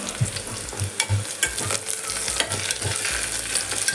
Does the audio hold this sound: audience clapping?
no